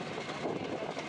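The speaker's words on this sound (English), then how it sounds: "You just saw the number 4 engine kick over." The number 4 engine of a B-17 bomber runs just after starting, a dense, steady radial-engine roar with a rough churning texture, heard close and loud with no talk.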